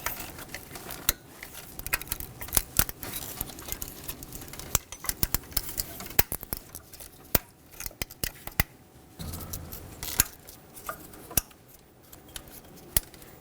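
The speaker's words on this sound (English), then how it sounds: "I'm going to start with the ignition coils. Make sure that everything clicks." Plastic ignition coil connectors on a 2010-2015 Lexus RX350 engine snap into place, a scatter of sharp close clicks and clacks among handling noise, with no talking.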